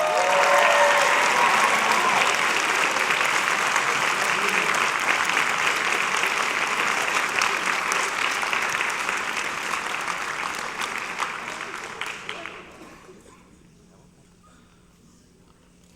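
Audience at a high school spring band concert applauds steadily in a broad, continuous wash of clapping that fades out over the last few seconds.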